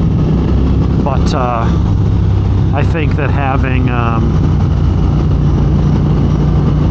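A 2022 Triumph Speed Twin motorcycle engine runs with a steady low rumble throughout, while someone speaks over it in the middle.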